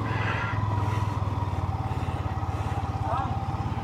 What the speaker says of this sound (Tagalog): So ngayon itatry ko kung ano na ba yung hatak nya, medyo gumanda na ba ulit.